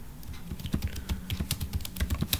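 Fingers type on a computer keyboard while coding web pages, a quick irregular patter of crisp close keystrokes with occasional heavier thumps.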